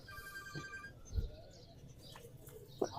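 Pigeons at a pigeon market in Lahore, giving soft, faint coos and chirps over a low murmur of market noise, with a couple of brief louder bumps.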